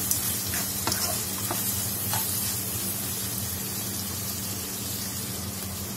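Onions with a spoonful of salt frying in sesame oil in a pan, alongside whole spices and pepper, a steady loud sizzle with occasional stirring scrapes throughout.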